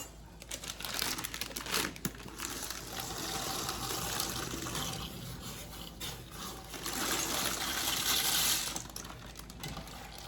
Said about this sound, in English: see how my water's come to a boil? We're gonna go ahead and add these noodles in.